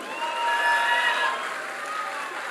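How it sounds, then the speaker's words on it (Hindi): Applause from a hall audience at a leadership talk, a moderate wash of clapping and crowd noise that swells briefly then holds steady for a couple of seconds. "आपकी तालियों की गड़गड़ाहट आज बाज वाली होनी चाहिए"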